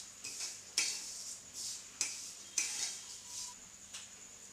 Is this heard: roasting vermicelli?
yes